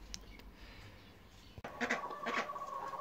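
Chickens cluck and squawk in short bursts near a backyard chicken coop on a smallholding, following a quiet stretch of outdoor ambience, fairly close and moderately loud.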